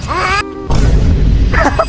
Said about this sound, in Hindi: ये बिल्ली बोल रहे हैं